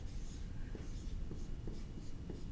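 Someone writing out a subtraction problem, a continuous scratchy stroking with small rhythmic bursts as each figure is written, close and steady over a dense low background rumble, with no speech.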